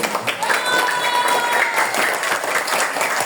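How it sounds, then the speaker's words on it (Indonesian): Schoolchildren at an Isra Mi'raj school celebration clap together, a lively burst of applause with uneven hand claps and some children's voices mixed in throughout. "Tepuk tangan adik-adik."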